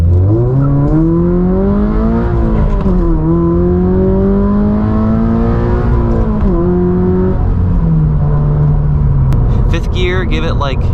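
A 2022 Subaru BRZ fitted with a K&N intake accelerates hard at full throttle, the engine note climbing loudly through the revs with brief dips at the shifts, alone and close.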